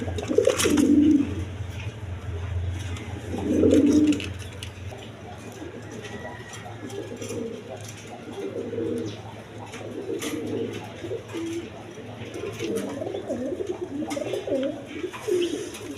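Pigeons at a breeding farm give low, soft coos in short bursts, with a few louder calls early on. Someone speaks over them much of the time.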